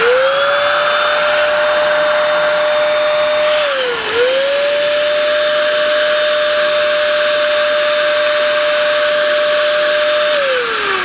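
A steady, smooth electric motor whir from a Coofix CF-SG001 electric paint spray gun runs continuously, dipping in pitch once briefly before settling back to an even hum, around 76 decibels.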